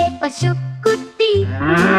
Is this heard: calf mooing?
yes